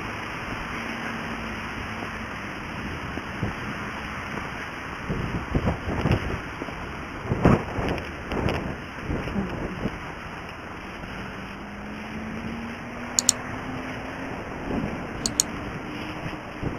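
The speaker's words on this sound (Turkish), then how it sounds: "Rüzgar var." Steady wind roars and buffets the microphone, with gusty low rumbles rising and falling and a faint engine-like drone underneath.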